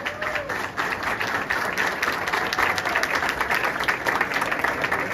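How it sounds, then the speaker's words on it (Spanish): Fans applaud at the presentation of the Gigantes de Carolina 2023 team, a dense, loud, continuous round of crowd clapping that carries evenly from start to finish. "por ese aplauso que se oye"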